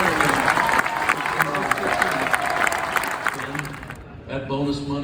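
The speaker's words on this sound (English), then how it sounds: "why don't we give them a round of applause?" Applause and crowd noise rise from an audience at a San Francisco Giants fellowship night event, dense and fairly loud before cutting off abruptly, after which a voice speaks over a quieter room.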